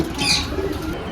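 Pigeons at a feeding spot coo and flutter their wings close by, a soft coo rising over a rustling, flapping background.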